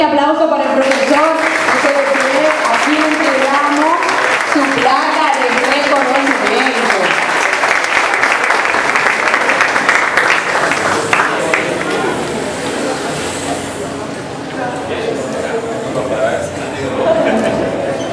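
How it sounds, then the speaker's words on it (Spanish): Strong applause for the teacher at a broadcasting school graduation ceremony in Nagua, Dominican Republic, dense crowd clapping mixed with cheering and voices, easing somewhat toward the end and swelling again briefly. "Fuerte aplauso para el profesor."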